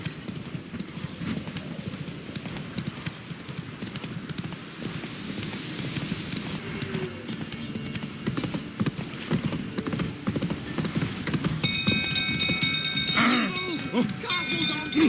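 Hooves of Roach, Geralt's horse, clip-clop steadily at a gallop in The Witcher 3: Wild Hunt on PC, close and continuous over rain-like ambience, with a brief higher chiming sound near the end.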